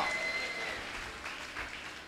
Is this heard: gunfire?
no